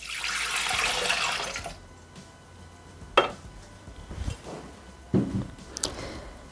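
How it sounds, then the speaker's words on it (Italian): Almond milk is poured into a Thermomix mixing bowl, giving a close, bubbling splash for about two seconds. A few sharp knocks and clunks from handling follow in a quieter room. "Iniziamo la ricetta mettendo all'interno del boccale il latte di mandorla."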